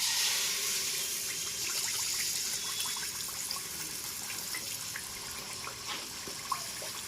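Tamarind pulp goes into hot oil in a pan, giving a steady close sizzle and spattering hiss that runs the whole time and fades slightly toward the end.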